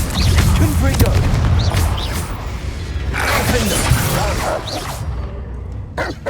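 Confringo blast spell explosions in Hogwarts Legacy, a run of loud booming, shattering bursts with crackling debris, several sharp hits spread across the stretch before it tails off near the end.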